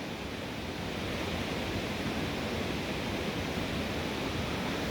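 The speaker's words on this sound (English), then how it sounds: "We're too close to the water." Waves wash onto a beach at night in a steady, even roar of surf, constant and fairly close, with no voices.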